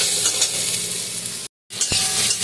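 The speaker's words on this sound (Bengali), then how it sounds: "শুক্তোর জন্য বেগুনটাকে ভেজে নিয়েছি" Eggplant frying in hot oil for Bengali shukto, a close, steady sizzle with a brief silent cut midway before the crackling resumes.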